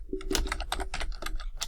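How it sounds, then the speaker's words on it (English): Quick, close keystrokes on a computer keyboard, about a dozen crisp clicks in an uneven burst, quiet and clear with no talk. "so I'm going to type that in"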